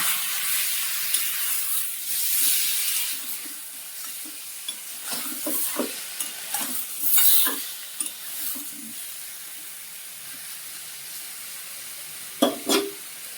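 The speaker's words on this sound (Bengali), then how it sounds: "আলু পেঁপেগুলো ঢেলে দিলাম" Potato and papaya pieces dropped into a hot pan for a home-cooked curry, giving a loud hissing sizzle that settles into steady frying, with scattered stirring scrapes and a couple of sharp knocks near the end.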